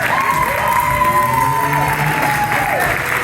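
A comedy improv audience applauds and cheers for a player, a dense, loud wash of clapping with whoops and shouts, steady across the whole moment with a voice rising over it.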